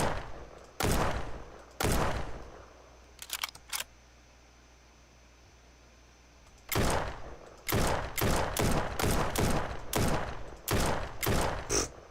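Gunshots in the video game Ancient Warfare 3 ring out as loud, sharp single cracks: two early shots, a quick pair, then a pause before a rapid irregular volley of about eight more, with no talking.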